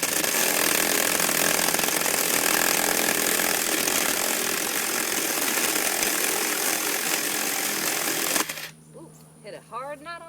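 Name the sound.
Black and Decker battery chainsaw cutting wood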